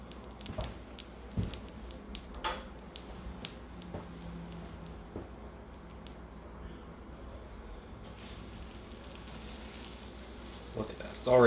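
Three tablespoons of butter melt in a pan over medium heat, giving a faint, steady sizzle and crackle that runs quietly throughout.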